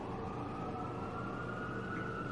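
An emergency vehicle siren sounds outside as a steady, faint wail, distant and muffled through the walls, with no talking over it.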